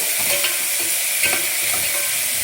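Beetroot salna being stirred in a pan, its frying sizzle a steady broadband hiss with soft scraping strokes, close and continuous with no talk.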